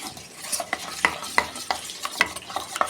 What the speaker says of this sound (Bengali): ভালো করে মশলাটা আমি গুলে নেব।